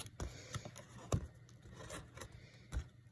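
Scissors making small miter cuts in paper for a handmade mini journal, a handful of soft, close snips and scrapes spaced irregularly, quiet with no talking.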